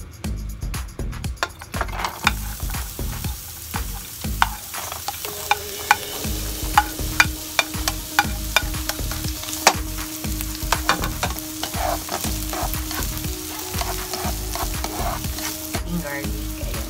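Onion sautés in oil in a pan with a continuous sizzle, and a utensil scrapes and clinks against the metal over and over in an uneven rhythm, close and fairly loud.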